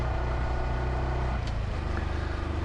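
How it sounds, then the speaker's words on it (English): A motorcycle engine drones steadily at close range while riding up a hill, with a low rumbling pulse and no talking. "I hope you can hear the engine"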